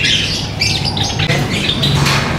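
Lovebirds at a busy Sunday bird market in Bahawalpur give loud overlapping squawks and chirps that carry on without pause, with no voices.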